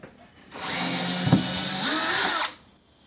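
A cordless power drill spins up and whirs steadily for about two seconds while backing out a screw, then winds down, loud and close with a brief thump midway.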